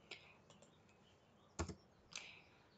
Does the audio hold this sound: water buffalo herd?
no